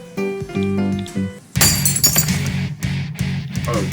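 Glass shattering in the visual novel Everlasting Summer: a sudden bright crash and tinkling fragments breaking over a looping game music track, with several sharp clinks following the main smash.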